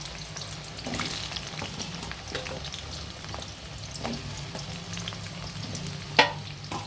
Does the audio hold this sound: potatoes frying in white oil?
yes